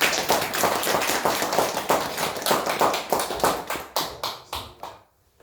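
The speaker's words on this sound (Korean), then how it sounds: "박수 한번 해드리겠습니다" A church congregation applauds a visiting teacher during a worship service, dense crowd clapping that turns into a rhythmic unison beat before thinning into a few scattered claps and stopping, with no voices over it.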